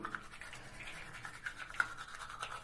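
A 3-in-1 toothbrush being tried out, giving a steady, faint buzzing hum with small scrubbing bumps and a brief louder knock near the end, heard alone without talk.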